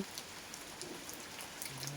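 Steady rain falls as a soft, constant hiss with scattered droplet taps. It is faint and even throughout.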